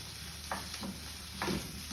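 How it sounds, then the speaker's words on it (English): Onions fry in a pan with a faint, steady sizzle and a couple of brief louder crackles, with no voices. "So onions are sizzling away."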